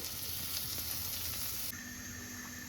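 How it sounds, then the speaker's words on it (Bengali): Continuous soft sizzling of Adana kebabs frying in a pan, an even crackling hiss with no talking. "এভাবে আমরা সবগুলো কাবাবকে ভেজে নেব"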